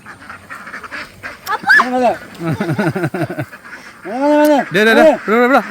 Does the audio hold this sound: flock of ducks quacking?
yes